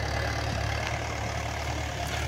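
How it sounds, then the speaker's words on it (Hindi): A Mahindra 575 tractor engine runs in fourth gear low, pulling a disk harrow with no load and heavy wheel slip: a low continuous rumble with a constant hum and no voices. "चौथे के लो में ट्रैक्टर चल रहा है"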